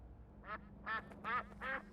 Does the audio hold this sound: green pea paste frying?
no